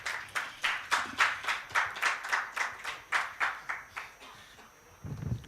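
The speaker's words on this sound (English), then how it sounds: "Big round of applause." An audience at a health summit panel applauds to welcome a panelist: a clear, evenly rhythmic run of about fourteen claps, moderately close, then a brief pause before more noise resumes.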